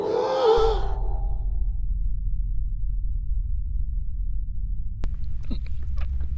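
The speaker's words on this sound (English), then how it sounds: "That gasp." A single sharp gasp in a hot sauce ad, a breathy intake at the very start, followed by a low steady rumble with a faint click and scattered ticks later on.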